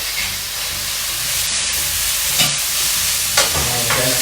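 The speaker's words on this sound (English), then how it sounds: "Now add in the leek." Leeks and tofu stir-frying in a hot wok make a loud, continuous hiss. A few brief scrapes of the spatula break through near the end.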